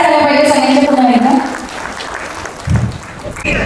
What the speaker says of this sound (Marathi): जोरदार टाळ्या झाल्या पाहिजे सगळ्यांच्या पुन्हा एकदा.